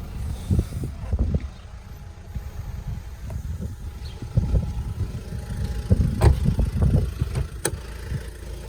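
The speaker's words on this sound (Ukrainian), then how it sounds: "Мотор працює ідеально, демпфер, щеплення працює ідеально також, нічого рано не стукає ні на холоду, ні на гарячу." A VW Passat B7 engine runs smoothly at idle, a steady low mechanical hum broken by occasional soft knocks and handling noises nearby, with no voices.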